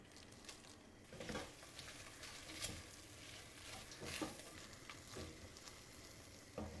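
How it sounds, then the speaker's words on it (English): Shrimp shells toast in two to three tablespoons of butter in a pan. A faint, crackling sizzle continues throughout, with soft bursts from stirring. "I'm gonna go ahead and toast these with our 2 to 3 tablespoons of butter in this pan"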